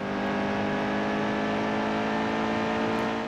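A racing truck engine in NASCAR Heat 2 holds a loud, sustained high-revving drone with a steady pitch and level across the whole stretch.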